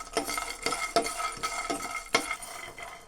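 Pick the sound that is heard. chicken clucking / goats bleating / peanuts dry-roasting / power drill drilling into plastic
peanuts dry-roasting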